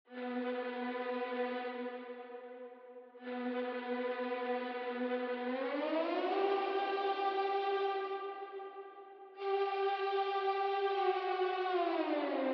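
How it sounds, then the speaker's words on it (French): A violin one-shot from a string section, played in FL Studio, holds long sustained notes that glide up and down in slow slides, with a bright, reverberant, slightly distorted tone and no voices. "Ensuite, j'ai ajouté ce violon, donc de la section string cette fois."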